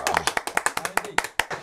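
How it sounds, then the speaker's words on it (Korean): A small audience applauds at a Korean literary talk event, a short burst of brisk, close hand claps in a quick uneven rhythm. "박수."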